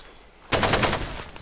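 A sudden burst of rapid automatic gunfire from the video game Far Cry 2, on the Little Town of Blastiness map, breaks out after a quiet moment: about eight loud, close shots in quick succession.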